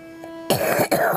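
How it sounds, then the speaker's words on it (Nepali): An elderly woman of about seventy, living in a forest, coughs twice in quick succession, harsh and close, after a brief quiet moment. "खोकी लागेको छ है आमा?"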